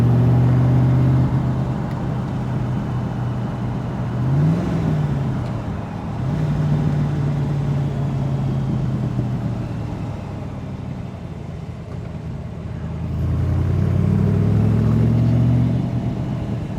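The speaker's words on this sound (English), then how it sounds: "And we're going to go up through the gearbox here." A 1965 Factory Five Shelby Cobra accelerating up through the gears, engine drone rising and dropping at each shift, heard from inside the car with a steady low rumble throughout.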